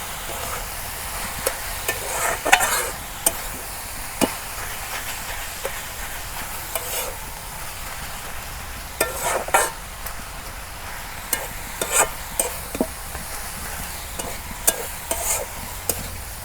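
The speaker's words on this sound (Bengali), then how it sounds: "দেখো অনেক সুন্দর করে পাতাকপি ভাইজা নিলাম" Shredded cabbage stir-fries in a pan with ground coriander and cumin, a steady sizzle broken by repeated scraping and clinking stirs at an irregular pace, close and without talk.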